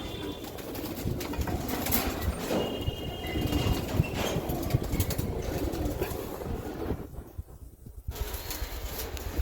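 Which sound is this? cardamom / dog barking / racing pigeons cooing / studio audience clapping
racing pigeons cooing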